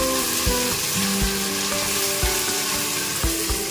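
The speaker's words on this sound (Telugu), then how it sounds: "పచ్చిమిల్లిపాయలు వేసేసి కొంచెం జస్ట్ లైట్ బ్రౌన్స్ వచ్చేదాకా" Green chillies sizzle in hot oil in a pan while cooking a Kerala-style coconut milk fish curry with raw mango, a close, steady frying crackle broken by a few soft stirring knocks.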